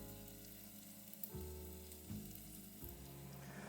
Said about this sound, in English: you can simply render the fat gradually